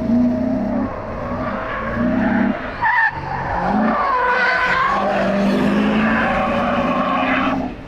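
A BMW, either an M340d or an E36 with a 4.4 V8, squeals its tires during a warm-up run, loud sustained screeching with wavering pitch over a roaring engine, close and continuous throughout.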